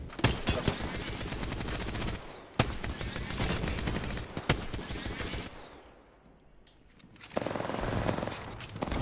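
Dense automatic gunfire in the shooter video game Apex Legends, Season 2 on Xbox One. Loud sustained bursts of shots are broken by a short lull before the firing resumes, with no talking.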